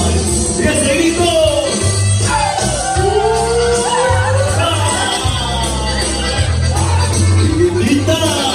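A live concert crowd shouts and yells in a loud, sustained roar of many voices, with whoops rising over the din and low music pulsing underneath.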